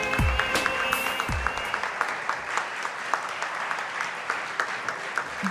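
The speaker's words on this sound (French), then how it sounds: "Félicitations, on l'applaudit." Audience applause at an evening awards event, steady clapping from a crowd with a few sharp louder claps standing out, fairly close and continuous.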